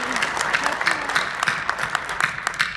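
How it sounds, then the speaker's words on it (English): Audience at a hall of fame award ceremony claps in a brief, close burst of applause, individual claps rising and falling in a quick, uneven rhythm. "please join me in a round of applause for them"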